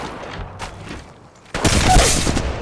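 A few faint shots give way to a loud, rapid burst of automatic gunfire in Apex Legends Mobile, close and sustained to the end.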